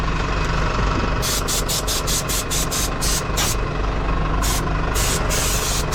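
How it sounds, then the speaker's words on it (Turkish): A tractor engine runs steadily to power an air compressor, a loud, constant diesel drone with a bursts of hissing air or rattling repeating at a fast, irregular rhythm. "tek şişirirken kompresör çalışabilmesi için traktörün çalışması lazım"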